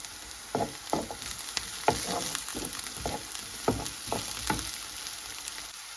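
Onions, garlic and small green chillies sauté in a pan for a dried anchovy thokku, a steady low sizzle broken by several soft stirring scrapes, close and without talk.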